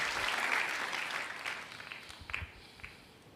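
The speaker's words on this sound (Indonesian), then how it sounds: "Beri tepuk tangan yang meriah buat Tuhan." Church congregation gives hearty applause to God during a sermon, a dense wash of clapping that is loudest at the start and gradually thins and fades, with a few scattered louder claps toward the end.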